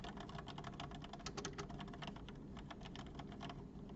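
Typing on a Logitech G810 Orion Spectrum mechanical keyboard with non-clicky switches, a quick run of soft close keystrokes, muted and even.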